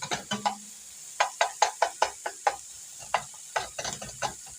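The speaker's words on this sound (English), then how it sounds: "I'm just going to take the spatula and crush that down" A spatula repeatedly crushes and breaks up stewed tomatoes in a pan while cooking a beef and cheese polenta lasagna, giving a run of sharp, close scraping knocks in irregular bursts over a soft sizzle.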